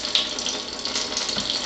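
Purified water pours from the tap of a water dispenser in a steady, hissing stream that runs evenly and fairly close, with no speech.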